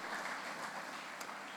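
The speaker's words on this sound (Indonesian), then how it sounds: "Yuk berikan tepuk tangan buat mereka ya." A congregation at a Good Friday church service in Indonesia claps in a soft, fairly faint wash of applause, steady and brief, heard from some distance.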